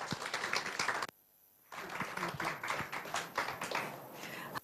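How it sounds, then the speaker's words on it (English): Audience applause at a health conference as a guest speaker is welcomed: dense, steady clapping from a sizeable crowd, a brief drop-out about a second in, then the clapping resumes and carries on to the end. "A big round of applause, Ms. Suma."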